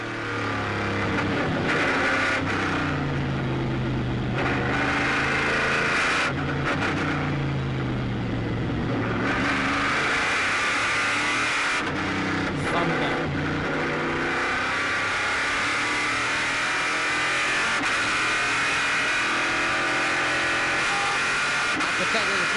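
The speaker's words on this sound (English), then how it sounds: "Let's just listen in to the Corvette for a moment." A Corvette GT1 race car at the Paul Ricard circuit: a loud V8 engine revving and shifting through gears with rising and falling pitch, repeated surges and lifts as it laps, a commentator's voice faintly present.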